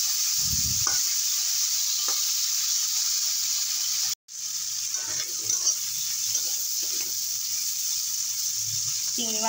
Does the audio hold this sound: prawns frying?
yes